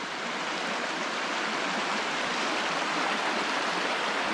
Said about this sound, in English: A little creek running in here too.